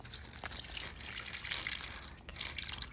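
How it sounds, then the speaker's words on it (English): Plain water poured into a container for a freezing test, a soft, quiet trickle and splash that runs steadily for a few seconds with small surges, with no talking over it. "let's add normal water to the water"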